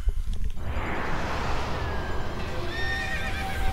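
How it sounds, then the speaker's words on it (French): A horse neighs loudly in the video game Okami, a long whinny rising over a rumbling, windy game soundscape, with faint chiming tones near the end. "Le cheval."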